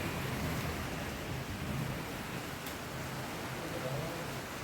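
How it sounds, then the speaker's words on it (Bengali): Rain falling outside a window, a dense continuous wash of hiss that stays steady and even throughout, heard from indoors with no voices. "কত বৃষ্টি পড়ছে দেখেছো?"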